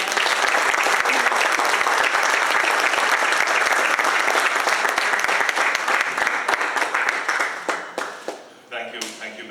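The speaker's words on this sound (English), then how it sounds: "join me in a warm round of applause to welcome Prime Minister Holness" A warm round of applause from an audience welcoming Jamaica's Prime Minister Holness at a Hartford HealthCare event, dense sustained clapping that fills the room before thinning out and fading near the end.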